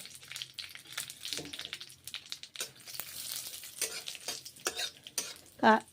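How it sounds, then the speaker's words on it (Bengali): Vermicelli and cashews fry in ghee, crackling and sizzling as they are stirred, with irregular clinks of a spoon against the pan and one sharper scrape near the end. "গা ঘি দিয়ে ভেজে নিচ্ছি। সিমুইগুলো ভেজে নিচ্ছি।"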